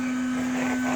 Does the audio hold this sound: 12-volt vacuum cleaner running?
yes